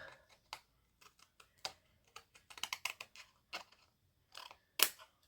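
Scissors snipping the end scraps off a handmade masculine card, a string of sharp, close clicks and cuts in irregular bursts, with quiet gaps between them.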